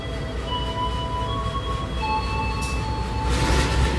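KA Batavia economy train pulling out of Cirebon station, a loud steady rumble of rolling wheels and carriage noise with thin high wheel squeals and tonal whines running throughout, no voices.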